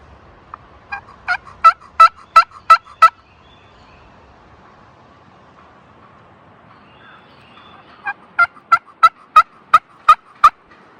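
Wild turkey gobbler calling outdoors: two rapid series of sharp, rattling gobbles, each a quick burst of about eight pulses, heard clearly from a moderate distance with quiet pauses between.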